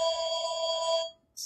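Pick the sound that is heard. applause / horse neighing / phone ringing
phone ringing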